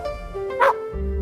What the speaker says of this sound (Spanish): El perro ladra y dice.